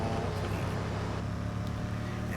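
A steady, dense mechanical rumble with broadband hiss from a video game car wash, like machinery spraying and running continuously throughout, fairly loud and even.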